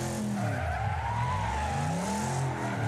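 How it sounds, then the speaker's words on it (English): A race car engine roars in the demolition racing game Wreckfest, a loud continuous rasp whose pitch sweeps up and down as the car revs and slides, with tire noise mixed in and no voices. "Just listen to that engine."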